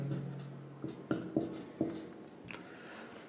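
Handwriting on a surface, a few short scratchy pen strokes close by over a low steady hum, with no speech.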